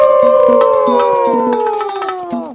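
A pack of foxes howls together, several long wavering voices sliding slowly downward in overlapping tones, loud and close, with short sharp yips breaking in throughout.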